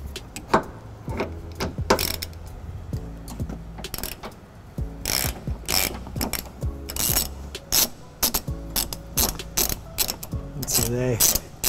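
A hand ratchet spins under a 2012 Toyota Prius Plug-In to loosen bolts during a trailer hitch installation, giving rapid, close clicking bursts separated by brief pauses and occasional metallic clinks.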